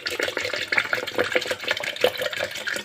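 Cold water from the fridge poured into a container for fresh lemonade, a steady splashing, gurgling stream close by, running continuously with no talk over it.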